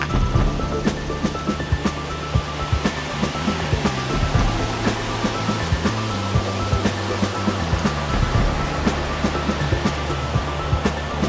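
A creek flows beside a lodge's meeting center and sports-bar outdoor deck: a steady, continuous rush of water, fairly close and even throughout, with no voices.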